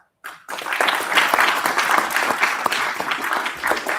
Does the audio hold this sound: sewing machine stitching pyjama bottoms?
no